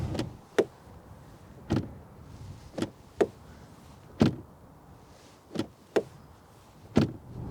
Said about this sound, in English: is the passenger door, especially, not wanting to close.